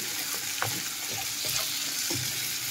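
Sausage frying with tomatoes and peppers in a pan, a steady close sizzle with a few soft scraping stirs across a short stretch.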